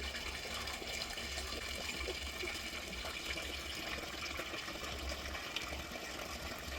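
A petrol pump drives water up through spray pipes in a mango orchard, giving a steady, continuous rush of water over a low engine hum that holds unchanged throughout with no voices.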